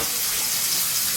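Steady broadband rush of running tap water filling a sink or basin during a curly hair washing routine, continuous and fairly close with no speech.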